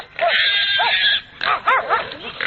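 Dogs bark, yelp and growl while attacking a piglet held by its ears at a hunting scene, loud frantic noise with squealing cries in overlapping bursts, close by.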